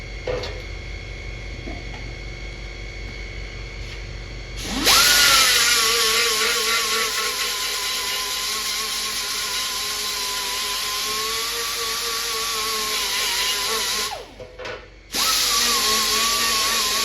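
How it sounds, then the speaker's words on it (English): A power grinder smoothing a weld on a piece for a Paperboy arcade cabinet bezel: after a quiet start, a loud steady whirring grind runs for about ten seconds, dips briefly, then resumes. "Just gonna zap it real quick and grind it."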